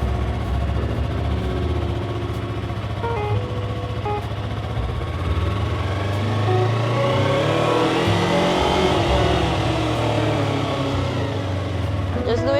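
A car accelerates hard and shifts up through the gears, engine note rising and dropping with each change, steady and close, while a person talks over it throughout.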